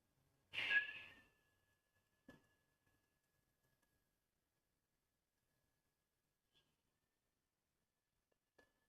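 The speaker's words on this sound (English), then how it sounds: "Inhale, making a whistling sound through your lips." Breath drawn in through pursed lips during a guided meditation, one short whistling inhale near the start, then near silence with a few faint ticks.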